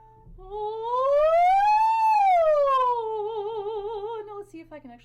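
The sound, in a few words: singer's voice imitating a siren glide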